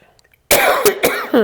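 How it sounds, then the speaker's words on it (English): A person coughs several times in quick succession, loud and close, after a brief quiet moment. "I'm sorry, I'm coughing."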